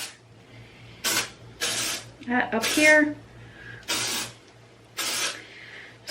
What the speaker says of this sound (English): I just make sure that I spray there